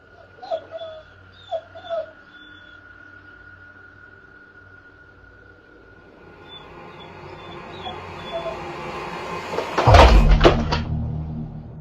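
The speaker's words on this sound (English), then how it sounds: "After a moment, the dogs start whining, looking around the dresser." Two dogs whine in short high, wavering bursts early on, then quieter whimpers follow over a steady indoor hum, ending with a loud bang or thud.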